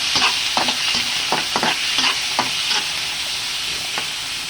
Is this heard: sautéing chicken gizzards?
yes